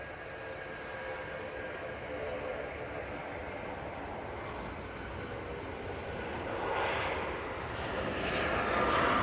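A jet airliner rolls down the runway at Manchester Airport on departure for Mytilene, a steady broadband engine roar from a distance that swells slightly toward the end, with faint voices in the background.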